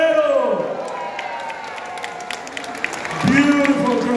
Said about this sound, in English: Clap for the Guerrero.